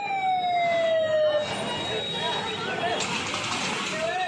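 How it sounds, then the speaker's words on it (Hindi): A fire engine siren wails with long falling glides amid a busy wholesale market crowd, moderately distant, while a person talks over the bustle. "ऊपर फायर ब्रिगेड आई हुई है"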